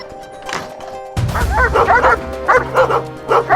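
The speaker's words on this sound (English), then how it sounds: "Looks like they have a dog." After a short quiet stretch, a dog at a house during a police encounter scenario starts barking, loud and close, firing off a rapid series of sharp barks with brief pauses between bursts.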